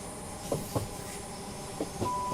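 Flying Scotsman steam locomotive in a Train Sim World 6 railtour on the East Coastway, a steady rolling rumble with a few sharp rail clanks and knocks over a low hum, no voices.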